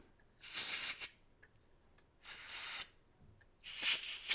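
Three sharp hissing bursts of canned keyboard-cleaner air sprayed into a trail camera, each under a second, separated by short silent pauses.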